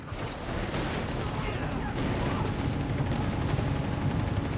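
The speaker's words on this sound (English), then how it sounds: "South side mines exploding there." Mines exploding amid gunfire in the World War II strategy game Company of Heroes 3, with a dense, continuous rumble of blasts and rattling shots and a voice talking over the battle.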